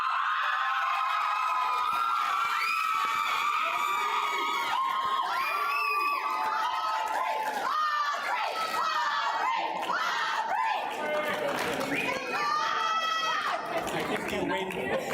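Crowd cheering and shouting at a Class of 2024 completion ceremony, a dense mix of voices, whoops and children's cries that stays loud and busy throughout.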